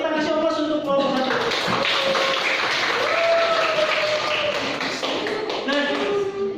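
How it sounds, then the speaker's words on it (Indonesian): Classroom of students applauding a group, steady dense clapping throughout, with voices talking and calling out over it. "Kita kasih aplaus untuk kelompok 1"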